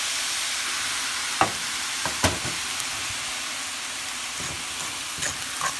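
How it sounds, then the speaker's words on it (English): Rice frying in a hot pan for a home hibachi dinner sizzles steadily as soy sauce goes in, with a few sharp stirring clicks and scrapes of a utensil over the continuous hiss. "to this rice, we're gonna add some soy sauce"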